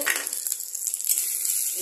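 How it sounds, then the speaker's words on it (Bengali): Spices with salt and turmeric fry in mustard oil, a brief continuous close sizzle with a faint scrape of stirring. "এটাকে ভাজা ভাজা করে নিতে হবে, তারপরে আরেকটু"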